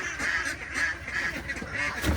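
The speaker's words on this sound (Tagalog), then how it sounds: "Samahan nyo ako ngayon sa ating araw na naman ng pagpapakain dito sa mga alaga natin itik." Ducks quacking at feeding time in a rural yard, a few rhythmic nasal quacks repeating at moderate distance over faint background noise.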